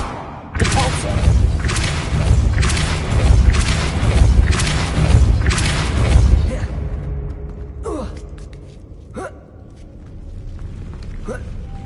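Depulso spell blasts cast in the game Hogwarts Legacy: a quick run of loud, booming bursts close together, then a quieter stretch broken by a few sharper thuds.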